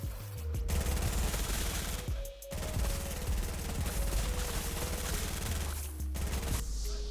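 Rapid automatic gunfire from AR and SMG weapons in Fortnite aim practice, dense continuous bursts broken by short pauses for reloading or switching, loud and close with no talk.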